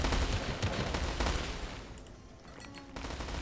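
Mortar and cannon fire in the World War Selection strategy game, a dense rumbling barrage of repeated booms and crackling shots that briefly thins before resuming.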